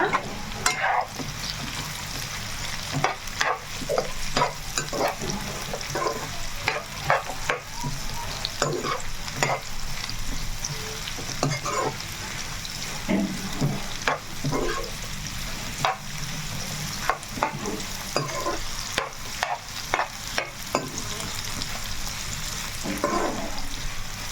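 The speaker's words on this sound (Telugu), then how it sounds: "సో ఇవి కూడా అలాగ కలుపుకుంటూనే ఉండాలి ఎందుకంటే అన్ని వైపులు మనకి కరెక్ట్గానే వేగాలండి కాకరకాయ కూడాను" Sliced bitter gourd with its seeds sizzles steadily in a pan while being stirred, with repeated scraping clicks of the spoon over a constant loud frying hiss.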